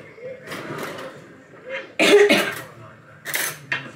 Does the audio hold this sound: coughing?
yes